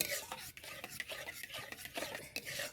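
Semolina being stirred and kneaded into a dough in a pan, soft continuous scraping and rubbing with irregular clicks of utensil on metal, faint and close.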